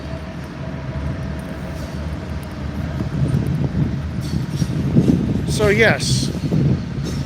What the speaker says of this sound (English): And there's a train going by.